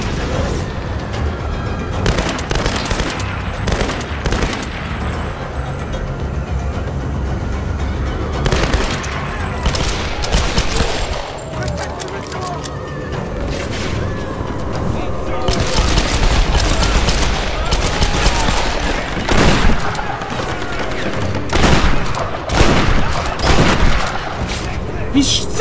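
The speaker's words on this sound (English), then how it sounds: "Sitting through two shotgun blasts!" Gunfire in Tomb Raider (2013) brings repeated loud shotgun blasts mixed with rapid bursts and booms, crowding together across a long chaotic firefight as a voice talks over it at times.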